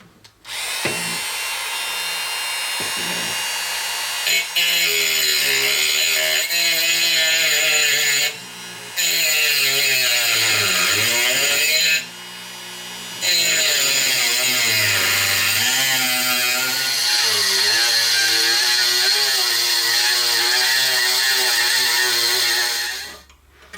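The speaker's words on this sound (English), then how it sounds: "I'm just going to use the metal cutting disc on a Dremel and finish off these cuts." A Dremel rotary tool with a metal cutting disc slices through aluminum while making a sliding T bevel, a loud, continuous high-pitched whine with a shifting pitch as the disc bites into the metal, broken by a few brief pauses over about 24 seconds.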